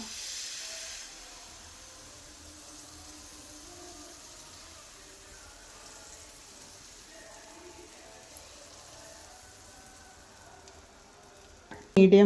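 Batter for a banana snack sizzles on a ghee-greased tawa, a faint, steady hiss throughout, ending in a couple of sudden loud knocks.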